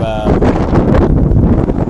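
Loud, roaring gusts of strong wind buffeting the microphone on Namibia's Skeleton Coast, a brief blustery burst.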